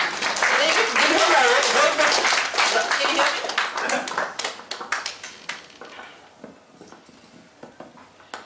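Dense applause and clapping from a panel discussion audience, loud at first and gradually thinning out into scattered claps; a voice murmurs underneath.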